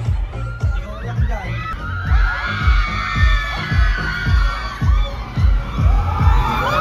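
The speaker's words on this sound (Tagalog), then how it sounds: "Sumisigaw sila." People shouting and screaming on an amusement ride at Global Village in Dubai, a loud excited crowd over a rhythmic thumping ride machine, with voices talking close by.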